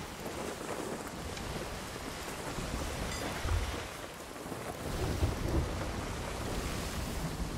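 Storm waves churn and wash at sea in the pirate game Sea of Thieves, a steady roaring surge with gusting wind noise and brief swells of louder crashing water, no voices heard.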